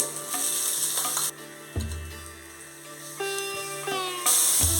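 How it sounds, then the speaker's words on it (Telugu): Crushed ginger frying in a pan, a bright hiss with a few clinks of a spoon and a low ringing tone partway through, close and fairly loud without speech. "అల్లం వేసుకున్నాక కొంచెం పచ్చి వాసన పోయే వరకు వేయించుకోవాలి"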